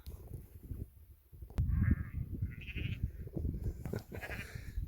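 Sheep and lambs bleat in a field on a farm, several short, wavering calls overlapping from about the middle onward amid rustling movement, fairly close and clear.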